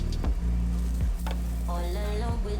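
Salmon fillets coated in coconut flour fry in a pan, a soft continuous sizzle over a low steady hum with a few faint clinks.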